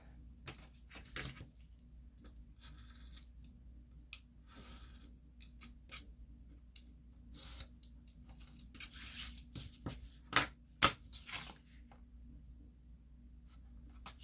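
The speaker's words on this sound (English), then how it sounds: "So I'm just going to trim off the extra bits." Scissors trim off excess material around the edges and bottom corners, giving scattered, quiet crisp snips and cuts at an irregular pace, a few sharper ones near the end, with no talking.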